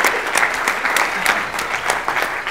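Symposium attendees at an orchid-growers' gathering applaud warmly, a steady, fairly close round of clapping from a sizeable crowd that holds at full strength throughout.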